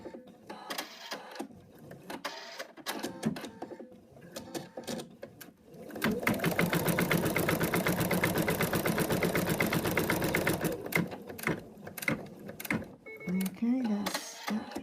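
A sewing machine runs steadily at full speed for about five seconds, a loud, even mechanical chatter, after softer handling noises and brief talk, then stops to clicks and a few words.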